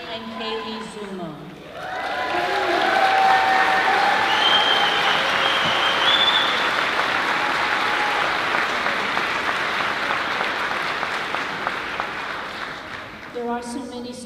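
An audience at a school moving-up ceremony applauds students, a broad, loud wave of many hands that swells in after a voice over the speakers, holds steady for about ten seconds, then fades as talking resumes.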